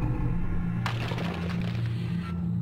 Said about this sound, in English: There's a loud rumble from the other room.